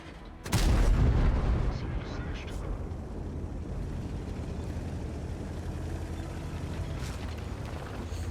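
A tank cannon fires once in World of Tanks, a loud close boom followed by mechanical rumble and the low drone of the game, with someone commentating over it.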